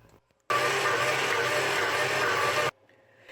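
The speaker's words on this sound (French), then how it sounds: "je vais incorporer l'eau, comme je vous ai dit, progressivement et laisser pétrir pendant 10 minutes jusqu'à obtenir une pâte lisse et collante" A kitchen machine kneads semolina and flour bread dough, a loud steady motor whir that starts abruptly, runs evenly for about two seconds, then cuts off.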